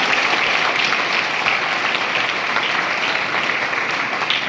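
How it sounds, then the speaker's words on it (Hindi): Applause from a meditation workshop audience, steady and dense throughout, fairly close and loud, many hands clapping at once with no voices over it. "चलो तो एक बार जोरदार अपने आप के लिए खुद के लिए एक बार तालियां बजाएं"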